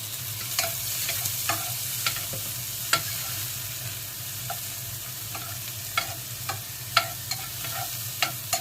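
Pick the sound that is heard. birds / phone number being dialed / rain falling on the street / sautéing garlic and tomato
sautéing garlic and tomato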